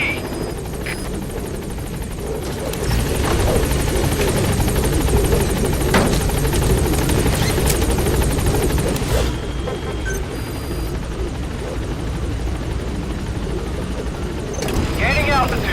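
B-Quad support helicopter from Metal Gear Solid V: The Phantom Pain flying near a landing zone, with a steady loud rotor roar throughout under intermittent radio-style voice lines and game effects.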